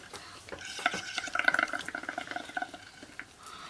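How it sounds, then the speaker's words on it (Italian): A straw pushes watery paint around in a jar to form bubbles for homemade children's watercolours. Soft, irregular bubbling and swishing comes in small bursts at close range, faint and unaccompanied by speech. "andate con la cannuccia a spostarlo per fare le bolle"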